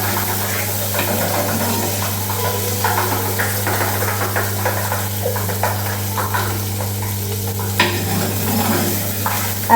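Fish curry ingredients stirred in a hot pan, a steady scraping and clatter of a spoon against the pan over a low sizzle and a constant background hum.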